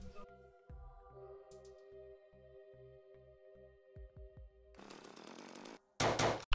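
Chainsaw in a zombie defense video game, a repeated pulsing low buzz in short regular bursts, then louder harsh revving blasts near the end, with no talk.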